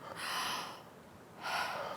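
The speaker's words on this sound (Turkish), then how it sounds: "Hızlıca yani ağzımızdan nefes alalım." Two quick, forceful breaths drawn in through the mouth, close and airy, separated by a short pause.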